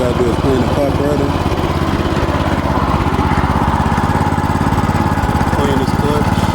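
A Yerf Dog go-kart engine runs loud and close in a steady, rough mechanical drone that never lets up, with a voice briefly heard over it.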